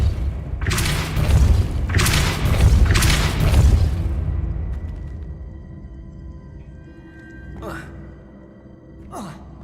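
Spell impacts from Hogwarts Legacy: three loud, booming bursts land in quick succession early on, each with a whooshing tail. They are followed by quieter game ambience and two brief swishes near the end.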